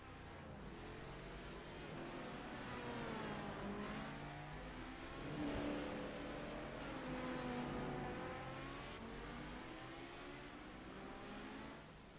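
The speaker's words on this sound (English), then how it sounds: "I can hear race cars." Race car engines rev and whine in a steady, wavering drone with rising and falling pitch sweeps, moderately loud and continuous with no talk over it.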